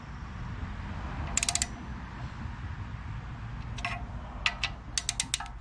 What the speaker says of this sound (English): I'm setting my torque wrench here to 12 foot-pounds